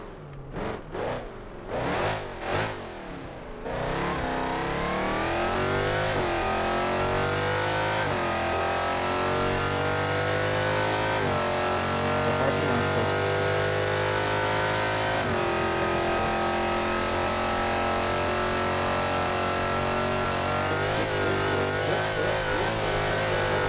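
A sports car in BeamNG.drive accelerates hard from near standstill, engine revving through rising gear sweeps into a loud, sustained high-speed roar with occasional shifts, alone without talk.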